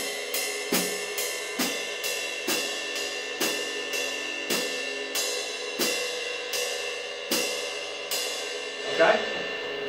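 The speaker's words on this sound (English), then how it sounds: "move it to the ride cymbal, play 8 notes on the ride cymbal, put quarter notes on the hi-hat with your foot" A drum kit plays a steady pattern of eighth notes on a ride cymbal, its wash ringing between strokes, with foot-played hi-hat chicks on the quarter notes and a low thump in places.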